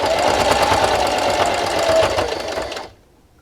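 A sewing machine stitches a fabric dish scrubber in a loud, fast, continuous whirring run close up, then stops abruptly near the end.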